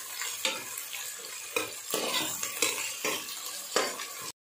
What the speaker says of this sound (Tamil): வெங்காயம் பாதி வதங்கிடுச்சு